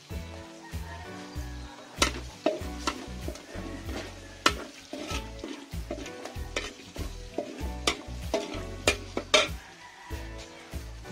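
Garlic frying in a pan with margarine for mechado, a steady soft sizzle broken by repeated scraping and stirring strokes of a utensil against the pan.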